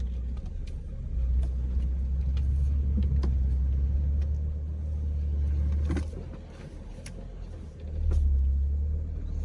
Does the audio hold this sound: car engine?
yes